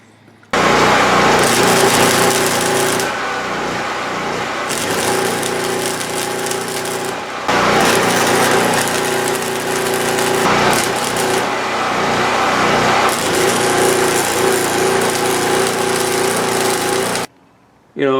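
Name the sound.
power tool cutting to shorten a metal shaft on a 1968 Buick LeSabre frame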